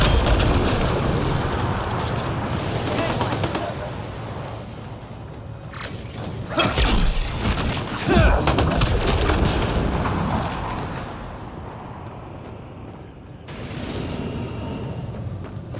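A grenade goes off in the video game Mass Effect Andromeda, a loud booming blast with a rumbling tail, amid ongoing combat noise and short bursts of other impacts.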